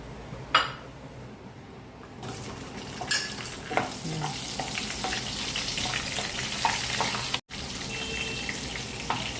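Cumin seeds hit hot oil in a pan for paneer bhurji, setting off a steady close sizzle and crackle, with a few utensil clinks and stirring scrapes scattered through.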